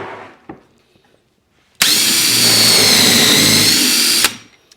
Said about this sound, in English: That's where I will drill my 3/4 inch holes.